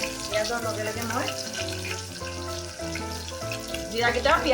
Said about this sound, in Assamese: জিৰাকেইটা পিঁয়াজতে একেলগতে ভাজি ল'লে ভাল হয়